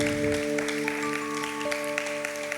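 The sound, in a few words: congregation applauding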